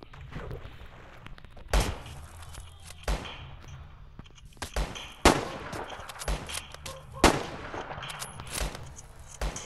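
Gunfire in a Minecraft video game: about half a dozen sharp, separate bangs spaced a second or so apart, each with a short decaying tail, fairly loud over a quiet, low background.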